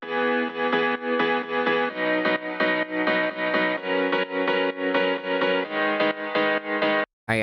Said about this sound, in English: And then I later added a piano chord which sounds like this.